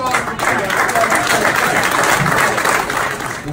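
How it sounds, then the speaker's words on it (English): Loud, close crowd applause at a boxing event, dense clapping that swells quickly and stays strong before easing slightly at the end. "Big round of applause."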